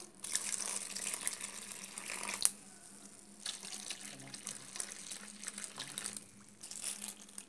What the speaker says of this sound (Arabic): بضيف مي،